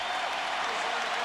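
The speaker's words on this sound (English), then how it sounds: "The crowd responds, gives them a standing ovation" A basketball arena crowd in the 2004 Western Conference Finals between the Lakers and Timberwolves gives a standing ovation, dense continuous clapping and cheering filling the space at steady loudness over a brief stretch.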